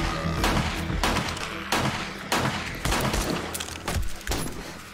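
Pipe pistol gunfire in the video game 7 Days To Die: five or six loud, sharp shots fired at irregular intervals of roughly a second, each with a short ringing decay, over steady low background game ambience.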